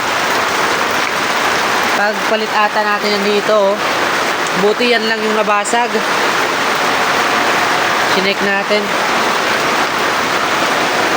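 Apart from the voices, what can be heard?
heavy rain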